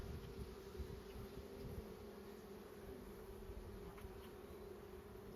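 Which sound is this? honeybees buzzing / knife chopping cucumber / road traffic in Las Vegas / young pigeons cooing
honeybees buzzing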